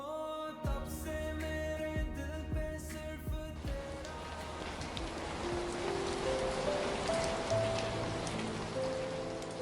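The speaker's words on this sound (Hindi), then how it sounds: "लगता है तेज बारिश होने वाली है।" Heavy rain pours down, a dense, steady wash of drops drumming on surfaces. Music-like tones and low thuds fade out early, leaving the rain alone and growing fuller.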